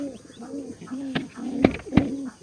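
Pigeons coo softly and repeatedly nearby in a domestic loft. Low rolling calls repeat in a steady rhythm, and a few sharp knocks or clicks cut in toward the end.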